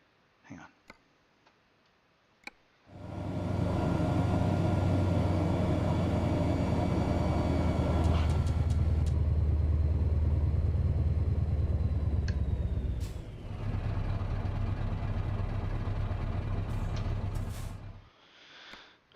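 Scania V8 truck engine heard from inside the cab in Euro Truck Simulator, pulling a full-size Ekeri tandem trailer: a loud steady droning rumble that starts abruptly, shifts pitch midway with brief clicks, then cuts off near the end.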